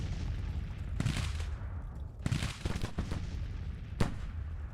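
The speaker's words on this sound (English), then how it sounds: "You gotta be careful, they might get flanked by this artillery fire." Artillery fire in the Civil War strategy game Grand Tactician, Spring 1861 campaign: several sharp booming cannon reports at irregular intervals over a steady rumbling battle backdrop, moderately loud with no talk.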